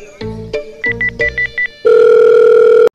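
A phone rings unanswered, its electronic tone sounding in several short bursts and then holding one long, loud steady tone for about a second before cutting off, with no voices.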